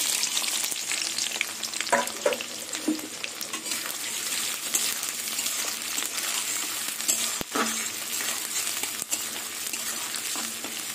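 Chopped onion hitting hot mustard oil tempered with nigella seeds, a loud, steady crackling sizzle lasting throughout, punctuated by a few sharp ladle taps and stirring scrapes, no talk.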